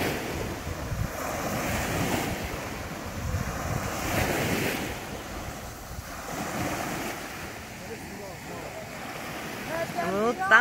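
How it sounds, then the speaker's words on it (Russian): Sea waves wash steadily onto a pebble beach at Beldibi on Turkey's coast, a continuous rushing surge with soft swells, mixed with gusty wind noise on the microphone and no talking. "Показываем море."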